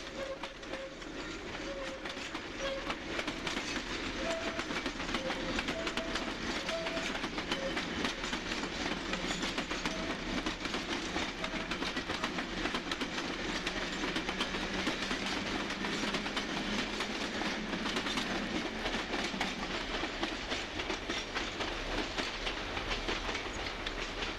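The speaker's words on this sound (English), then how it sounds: "The Croxley Flyer, the nickname for the Croxley Green Shuttle, passes in the background" Croxley Green Shuttle electric train passing on a British branch line, a steady rolling rumble with rhythmic wheel clatter heard at some distance, with a faint tonal whine early on.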